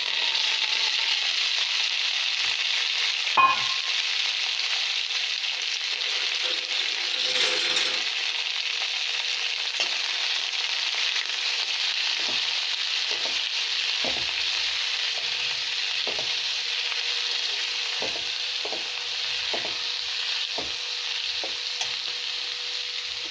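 Coriander leaves and tamarind are sautéed in a pan for a thuvaiyal chutney. A long, even frying hiss is broken by sparse light clicks of a spatula against the pan.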